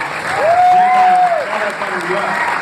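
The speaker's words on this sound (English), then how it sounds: "So, yeah, round of applause." Audience applause at a Daredevil fan convention panel, a broad wash of clapping from a crowd that swells and holds steady, with a loud whistle-like tone and voices partly over it.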